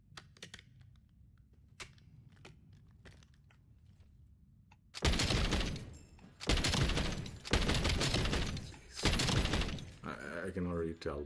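Weapon firing on the firing range in Call of Duty Black Ops 7, four loud bursts of rapid gunfire after a quiet stretch of scattered clicks, close and dominant.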